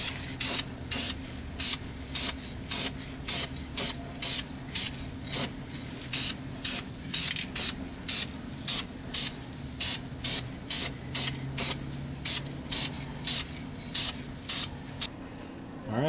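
Short, loud bursts of an aerosol spray can as a bright yellow anti-theft coat goes onto a Toyota Sequoia catalytic converter, about thirty even hissing blasts in a steady rhythm with brief pauses between them.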